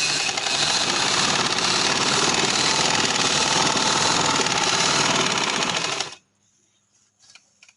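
A sewing machine runs fast and loud in one continuous burst for about six seconds while stitching elastic into a trouser waistband, then stops abruptly, leaving near silence and a few faint handling sounds.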